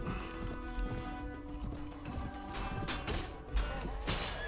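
Horses gallop across a battlefield in Mount and Blade: Warband, a dense, busy clatter of hooves mixed with crashing combat noise and a continuous roar of fighting throughout.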